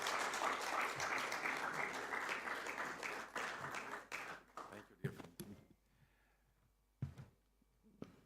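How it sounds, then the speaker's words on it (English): A tech event audience breaks into loud applause that carries for about four seconds, then thins into scattered claps with a voice speaking briefly as it dies away. "So please give them a big round of applause."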